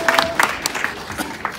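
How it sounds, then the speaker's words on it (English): Guests at a company Christmas party applaud, with scattered claps from a small group and uneven sharp hand strikes, fairly close, alongside light crowd murmur. "Round of applause"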